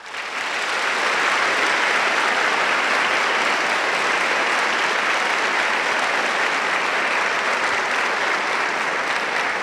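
Audience applause at a church gathering, sustained dense clapping that swells in at the start and holds steady and full for nearly ten seconds, with no talking over it.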